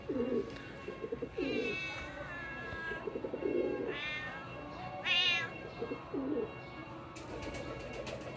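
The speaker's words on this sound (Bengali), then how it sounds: "আওয়াজটা ওই রকম মেও মেও যেটা করতেছে" A mother cat wanders a pigeon farm searching for her kittens, giving several drawn-out, plaintive meows spaced across the stretch, fairly close and clear, with pigeons cooing softly in the background.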